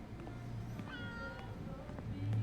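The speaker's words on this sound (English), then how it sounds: "Kitty!" A cat meows several times in the video game Life Is Strange: True Colors, with soft, drawn-out calls over a steady low background hum and no talking.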